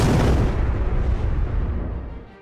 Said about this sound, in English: nuclear explosion.